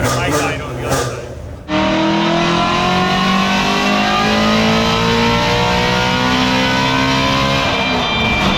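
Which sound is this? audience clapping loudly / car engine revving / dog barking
car engine revving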